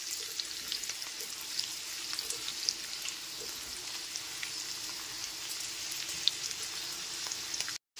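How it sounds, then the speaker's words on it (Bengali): Chopped beans and carrots fry in hot oil over a low-to-medium gas flame for veg chowmein, giving a soft, even, continuous hiss with faint crackles that runs for several seconds before cutting off abruptly. "গ্যাসের ফ্লেমটা লো টু মিডিয়ামে রেখে বিনস আর গাজরটাকে ভেজে নিচ্ছি।"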